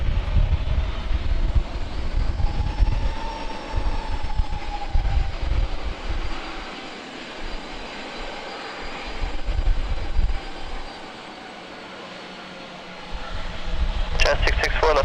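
An Air Canada jet airliner passes low overhead near San Diego airport, a loud, sustained engine roar that swells and then fades before rising again, with air traffic radio chatter mixed in.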